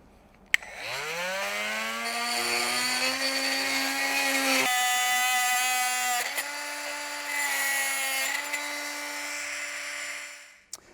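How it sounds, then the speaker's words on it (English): A StarLock oscillating multi-tool fitted with a fine-tooth timber blade cuts laminate flooring. It gives a steady, close, high-pitched buzzing whine that runs for about ten seconds, with a rising pitch at the start and brief shifts as the load changes. "Now for this laminate flooring, we've changed to a fine tooth timber blade."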